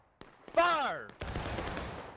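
A company of reenactors fires a rifle volley at a reenactment event: a shouted order, then a ragged, near-simultaneous burst of loud shots that rolls on briefly outdoors.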